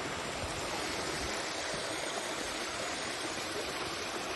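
Released water rushes down a hillside channel in the middle of a monument, giving a steady, dense roar of flowing water that stays even throughout.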